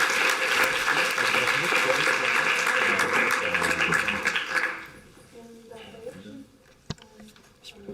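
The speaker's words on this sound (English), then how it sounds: "please give her a valid applause for coming on" Audience applause at a national assembly on stage in Düsseldorf, a sustained loud burst of many hands clapping that fades out after about five seconds, leaving quiet room noise.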